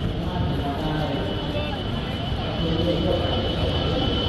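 An AirAsia Airbus A320 airliner roars overhead in a steady, dense rumble that fills the whole stretch, with a voice talking underneath.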